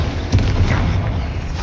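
An explosive Confringo spell blast in the Hogwarts Legacy video game lands as a deep, booming thud, heavy and rumbling, amid continuous loud game noise.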